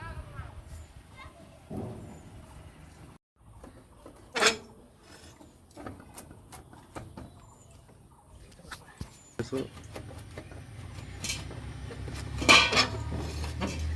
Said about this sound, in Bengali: তো বন্ধুরা এটা মা কাটবে এখন আপনারা দেখুন কীভাবে কাটে